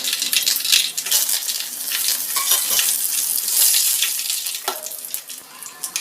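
Cinnamon, dried chili and curry leaves crackle and sizzle loudly in hot oil after mustard seeds have popped, a dense continuous frying hiss with sharp spitting pops, close and alone without voices.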